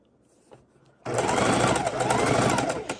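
A sewing machine stitches back and forth on fabric for a bowl holder. It kicks in abruptly after a quiet second and runs loud and steady at close range.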